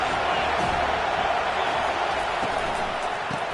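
Stadium crowd at a college football game cheers in a dense, sustained roar, a broad wash of many voices with occasional thumps, steady and loud throughout.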